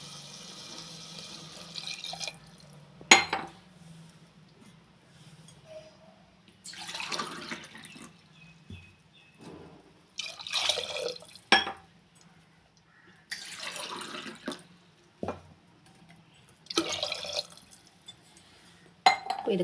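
Water pours into a cooking pot for rice in a home kitchen while making Karnataka-style plain biryani, with several bursts of splashing and trickling separated by quieter pauses, close and moderately loud.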